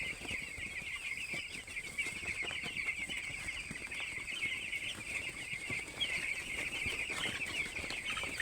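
Ten-day-old broiler chicks fill a poultry farm with a dense, continuous chorus of high peeping that holds steady throughout, with no voices over it.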